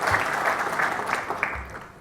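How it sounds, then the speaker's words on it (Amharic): Warm applause welcomes guests at a book launch in Germany, a crowd of hands clapping briskly together before the sound thins and fades out toward the end. "ለነዚህ እንግዶች እስቲ አንድ ጊዜ ሞቅ ያለ ጭብጨባ"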